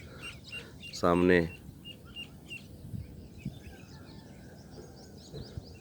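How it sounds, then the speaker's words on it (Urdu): Birds chirp softly in a village in the early morning, faint scattered tweets against a quiet background, with someone briefly speaking near the start. "پرندوں کی ہلکی ہلکی آواز آ رہی ہے"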